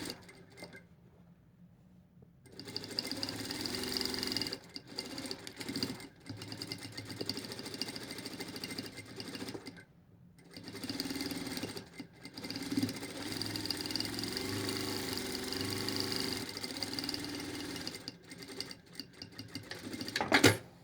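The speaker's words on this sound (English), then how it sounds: "So we're just going to sew from one end to the other." Sewing machine stitching along the bias edge of a fabric face mask, a close, steady mechanical whir running in long bursts separated by short silent pauses.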